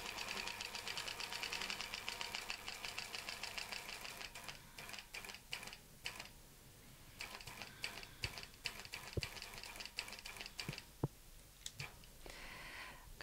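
A sewing machine stitches fabric around a quilting template, a fast, even mechanical rattle for several seconds, then stopping and restarting in shorter bursts with a few isolated clicks and taps.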